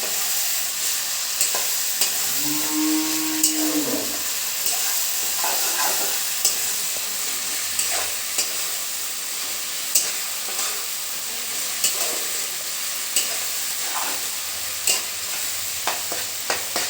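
Chicken being stirred in a pan with ground cumin, pepper, coriander and dry chili paste, a steady sizzle with repeated scraping strokes of a spatula and a short rising tonal whine early on, close and without talk.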